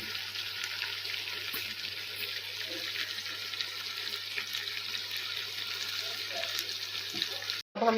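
Half a cup of water poured into simmering mutton karahi gravy in a wok-style pan, heard as a steady, close hiss and bubbling sizzle throughout, briefly cut near the end.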